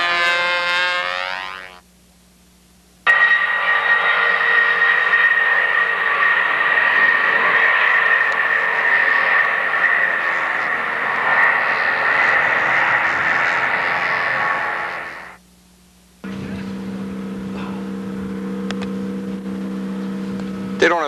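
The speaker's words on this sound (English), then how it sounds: "That's still detonating. We're still getting that rattly noise in there." A model aircraft engine runs loud and close with a rattly, detonating buzz, cutting out twice for brief pauses, and someone talks over it at the start.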